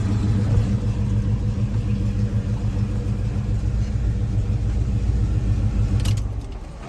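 A 1970 Chevelle with a 454 V8 idles in a deep, steady rumble that holds evenly, then cuts off near the end and fades quickly toward quiet.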